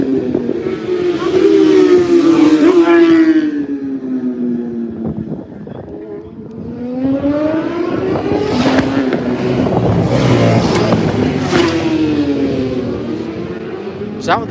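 A Ducati motorcycle with twin exhaust pipes underneath races past at Castletown corner during the Pre TT Classic, with a loud, rising and falling engine howl in two close passes and a short lull between them.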